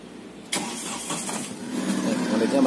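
A used ex-company truck's engine cranks and catches after a short quiet moment, then settles into a steady, fairly loud mid-pitched idle that grows slightly stronger.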